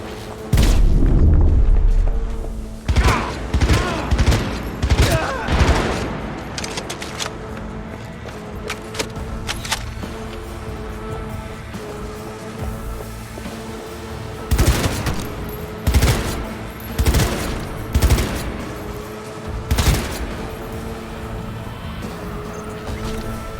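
Gunfire rattles through a Cyberpunk 2077 firefight in loud, rapid bursts that come and go, with heavy booms opening the exchange and echoing volleys throughout.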